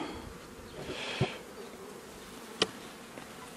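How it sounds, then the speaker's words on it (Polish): Honeybees buzzing in an opened beehive at an apiary in March: a faint, steady hum with a couple of sharp clicks, and no one speaking. "Zobaczymy, co te pszczoły robią."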